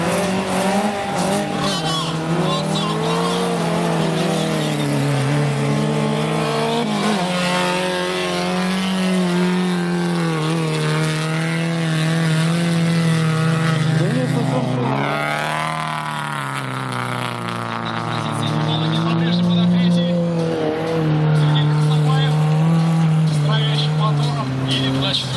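Autocross race cars on a track roar loudly, engines revving up and down in long sweeps with tires skidding, while someone commentates throughout.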